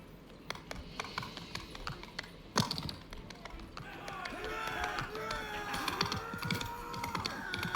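Horse hooves clip-clop in a medieval video game, a steady run of light taps under music and a voice.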